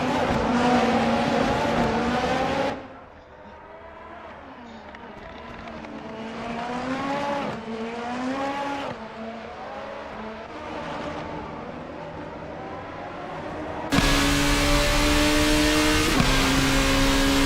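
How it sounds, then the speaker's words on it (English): Race cars lapping the Motegi circuit in a racing video game, engines whining and shifting through rising and falling revs, one car loud and close at the start and end with quieter passes between. "few cars out on track though"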